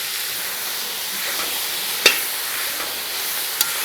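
Onion samosa filling sautés in a pan with a steady, soft sizzle and hiss. A couple of sharp utensil clicks stand out against it. No one talks.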